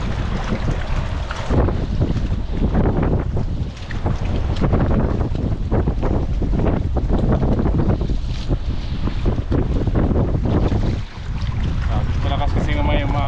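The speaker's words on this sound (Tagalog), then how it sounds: "malakas yung hangin" Loud, continuous wind buffeting the microphone, a dense roaring rush that barely lets up, with faint voices buried beneath it.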